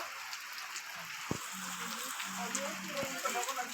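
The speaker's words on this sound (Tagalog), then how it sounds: "Walang tigil na ulan." Steady typhoon rain falls continuously, a dense hiss of drops with a few louder splashes and faint low sounds underneath.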